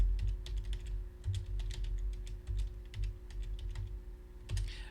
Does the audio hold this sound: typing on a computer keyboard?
yes